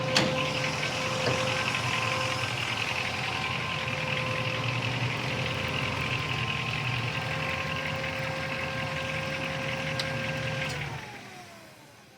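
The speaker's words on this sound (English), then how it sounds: "Sounds like our electric fan just kicked on too, Dalton, so that's an automatic." A 1968 Chevrolet Camaro RS with a big-block 502, headers and an automatic transmission idles steadily alongside the whir of an electric cooling fan, the engine and fan holding a constant tone before cutting off near the end.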